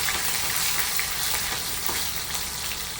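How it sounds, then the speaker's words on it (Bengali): Green chilies fry with cumin in hot oil while being stirred, a steady dense sizzle throughout with faint stirring scrapes, close and loud, no voices. "দুটো কাঁচা লঙ্কা দিচ্ছি, নেড়ে ছেড়ে নিলাম।"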